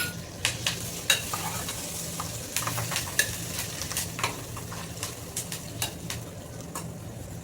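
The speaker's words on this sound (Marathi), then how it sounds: "त्याच्यात आता ना कढीपत्ता टाकते" Curry leaves frying in hot oil in a pan, a steady close crackling sizzle punctuated by repeated sharp scrapes and clicks of a spoon stirring against the pan.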